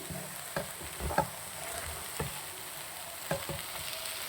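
Ingredients for uggani fry in a pan with milk, a soft continuous sizzle broken by several spoon scrapes and taps as they are stirred, close and fairly quiet with no talking.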